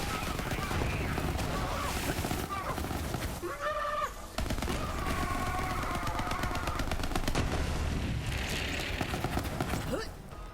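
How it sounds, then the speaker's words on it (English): Rapid, dense gunfire from a ricocheting saw-blade weapon in the Borderlands 3 video game, crackling steadily throughout amid layered game effects and impact noises. "bullets are ricocheting and hitting so many different enemies"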